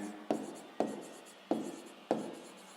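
Pen writing in a school notebook during a sixth-grade maths exercise, four short scratchy strokes spaced about half a second apart, close and quiet, each fading quickly.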